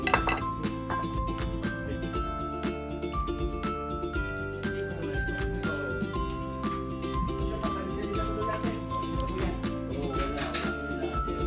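A utensil clinks against a bowl or pan while pepper and salt are stirred into a calamares mixture, the taps loud and frequent over steady background music.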